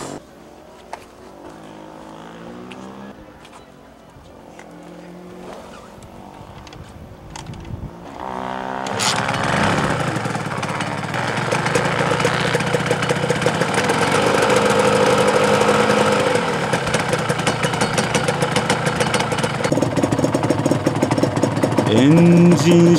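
A restored Honda NSR250R MC28 two-stroke motorcycle engine starts up and settles into a steady, loud idle with a buzzing rattle, after a stretch of quiet talk.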